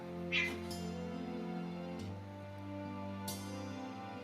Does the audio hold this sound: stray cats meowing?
yes